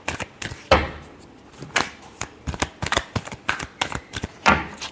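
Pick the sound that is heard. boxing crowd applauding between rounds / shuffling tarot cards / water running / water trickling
shuffling tarot cards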